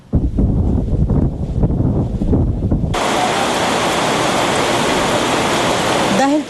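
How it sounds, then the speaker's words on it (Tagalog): Strong, gusty typhoon wind in Santa Ana, Cagayan, first battering the microphone in bursts, then turning into a loud, steady roar that fills the rest of the clip. "patuloy na nakararanas ng pabugso-bugsong pagbayo ng malakas na hangin si Bagyong Dindo dito sa Santa Ana, Cagayan"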